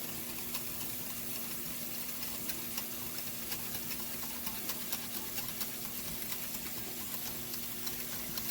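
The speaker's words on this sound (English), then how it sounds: "Mix it all together." A beef, onion soup and rice mixture is stirred in a cast iron skillet, giving a soft wet sloshing with faint, regular ticks of the spoon against the pan under a low, constant hiss.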